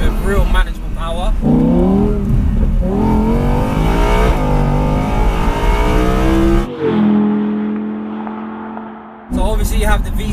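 Audi R8 V10 Plus engine pulling hard through the gears from inside the cabin, its rising and falling harmonic whine climbing in pitch with each upshift, loud and close, with people talking over it.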